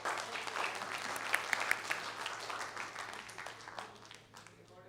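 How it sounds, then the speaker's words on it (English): An audience at a HAIRCON 2020 conference session applauds in a steady burst of clapping that swells, then gradually thins and fades out. "welcome applause for the next session?"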